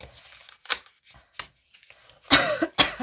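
A couple of harsh coughs near the end, close and loud, after quieter scattered rustling sounds.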